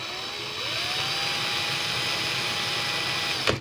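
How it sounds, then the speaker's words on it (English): A power drill runs in reverse, twisting Clapton coil wire, a steady, close whine that rises in pitch as it spins up and then cuts off with a brief clatter at the end. "I'm going to put my drill in reverse and simply just pull this Clapton as the drill turns"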